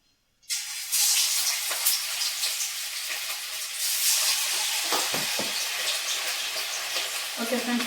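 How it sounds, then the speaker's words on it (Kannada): Fish frying in hot oil in a home kitchen, a loud steady sizzle that starts abruptly and crackles continuously, with occasional stirring clinks and a faint voice near the end. "ನಾನೇ ಫಿಶ್ ಫ್ರೈ ಮಾಡ್ತಿದ್ದೀನಿ"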